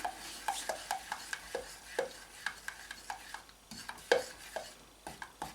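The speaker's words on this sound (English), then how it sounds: "Yeah, constantly mix it because it will burn." A melting mixture for gingerbread reindeer being stirred constantly in a pan, with quick repeated scraping and tapping strokes of a utensil against the pan, close but fairly quiet, steady rhythm throughout.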